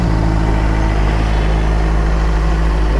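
A 2021 Benelli TNT 600i inline-four motorcycle on its stock exhaust idles close by, a steady, loud, unbroken engine drone.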